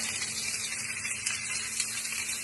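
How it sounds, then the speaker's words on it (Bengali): Raw green mango pieces frying in a pan for a sweet-sour-spicy pickle, giving a steady, even sizzling hiss throughout with a faint low hum beneath and no talking. "এবার এটা একটু ভাজা ভাজা হোক"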